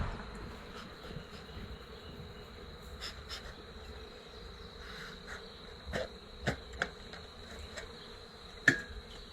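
A steady, low insect buzz of many honey bees from a wild swarm hums throughout, with a few sharp knocks and taps near the end.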